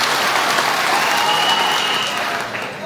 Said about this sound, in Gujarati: બ્રિજરાજભાઈ માટે જોરદાર તાળીઓ થઈ જાય